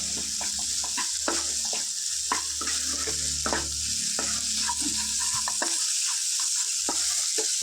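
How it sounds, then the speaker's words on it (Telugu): Capsicum curry sizzling and frying in a pan, a constant bright hiss with repeated scraping stir strokes of a utensil against the pan, close and clear with no voices. "వేసుకొని ఫ్రై చేసుకుందాం ఫ్రెండ్స్"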